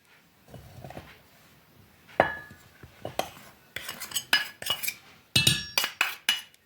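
Wheat flour going into a metal bowl in a kitchen, with dishes and utensils clinking and knocking in irregular bursts that grow busier toward the end, close and fairly loud, no speech.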